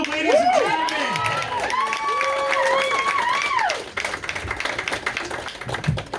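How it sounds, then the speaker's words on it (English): A comedy club crowd cheers and applauds, with whoops and shouts over steady clapping that thins into scattered claps toward the end, fairly loud and close. "Make some noise for Miss Kathy Arnold, ladies and gentlemen"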